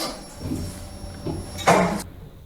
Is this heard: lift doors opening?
yes